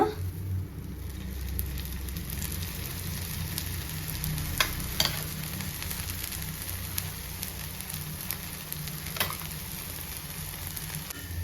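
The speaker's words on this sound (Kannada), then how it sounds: "ಈ ಸೈಡ್ ಹೆಂಚು ಚೆನ್ನಾಗಿ ಕಾದಿರೋದ್ರಿಂದ ಬೇಗ ರೋಸ್ಟ್ ಆಗುತ್ತೆ" Rava roti roasts in oil on a hot griddle with a steady, close crackling sizzle that holds throughout, with a few sharper pops here and there.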